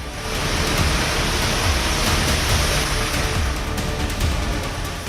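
Heavy rain pours down in Ghaziabad, India, in a dense, steady roar, loud and continuous with no voices.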